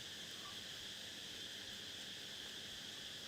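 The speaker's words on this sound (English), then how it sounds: "The cicadas have started screaming." Steady insect buzzing outdoors, cicadas droning continuously at a constant level without pause, a dense high hiss filling the background.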